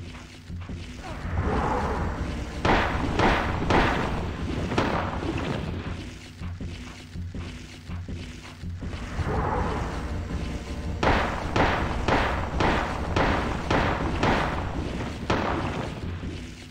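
Repeated pistol shots from the Silent Hill PS1 video game, sharp broadband bangs in clustered bursts over a dense, continuous game soundscape of low rumble and noise, loud and close.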